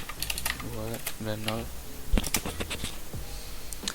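Fingers tap numbers on a computer keyboard, a few quick, sharp clicks scattered among a person's speaking voice, which carries on throughout.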